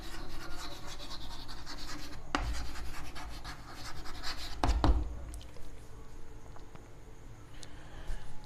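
Scratchy strokes of writing on a board during a physics lesson, steady rubbing and scraping with a few sharp taps, close but fairly quiet, with no speech.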